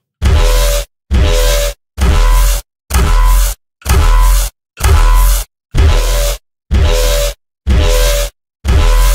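Two bass sounds blended through the FFTexture plugin play as ten evenly spaced, loud, textured bass hits, each about half a second long with short silences between them.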